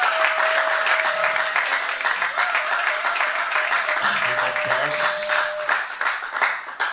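A church congregation applauds during a worship service, a dense, sustained round of clapping that fills the room, with a voice and a held tone briefly audible underneath.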